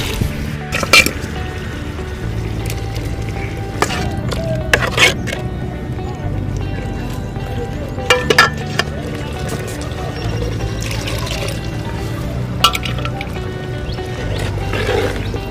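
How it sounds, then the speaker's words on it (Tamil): Water being poured into a pan while cooking goat leg soup, heard as a continuous close liquid trickle with small drips and splashes, plus scattered clinks from the kitchen. "கொஞ்சம் தண்ணி ஊற்றிக்கலாம்."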